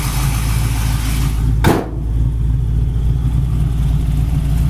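A built engine with headers in a 1964 Chevy Nova runs at a steady, close, low idle, with one brief whooshing burst partway through and no talking.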